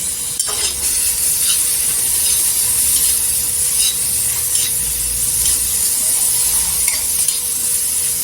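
Large tomato pieces sizzle in a pan with roasted chillies and garlic, a loud, steady frying hiss with occasional stirring scrapes, alone without voices.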